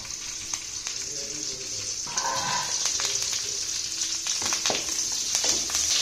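Cinnamon and curry leaves frying in a spoonful of hot oil, a steady bright crackle that grows denser partway through, with occasional sharp pops and spatters, close and fairly loud.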